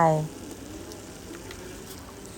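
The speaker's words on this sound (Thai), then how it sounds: "ยีเอาแต่เนื้อใส่ลงไปค่ะ แล้วก็จะผัดจะเคี่ยวไปเรื่อยๆนะคะ" Flesh of fried salted king mackerel stir-fried and simmered in a pan for a Thai salted-fish coconut-cream dish; a brief voice opens, then a soft, steady sizzle hisses alone.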